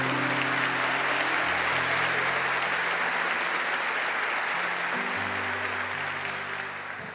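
Sustained audience applause fills a church during a sermon, a dense and steady wash of clapping with a held musical tone beneath, easing slightly toward the end.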